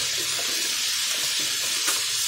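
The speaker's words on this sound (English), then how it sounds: "I'm going to rinse my hands." Steady hiss of running tap water with faint splashing as hands are rinsed beneath it, continuous and fairly close.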